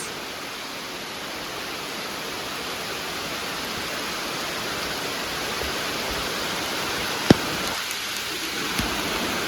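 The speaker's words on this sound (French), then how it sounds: "Il pleut, il pleut, il pleut" Steady rain hisses down in a dense, even wash, with one sharp tap and a low rumble near the end.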